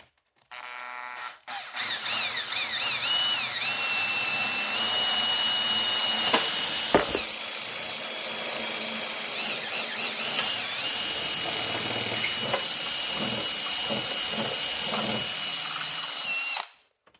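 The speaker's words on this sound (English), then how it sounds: "Now we're just going to drill the designated holes." A power drill whines steadily for a long stretch, loud and close, its pitch wavering as it bores into material, with brief clicks and pauses.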